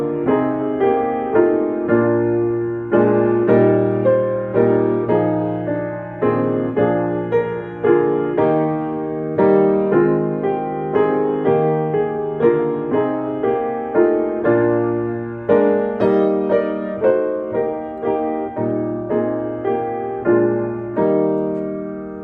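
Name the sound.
piano playing a gentle, lullaby-like song with building dynamics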